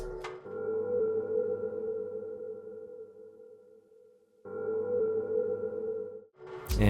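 A soft ambient one-shot tone swells in and sustains as a smooth, faint pad, fades into near silence, then returns and sustains again before a brief bright burst at the end.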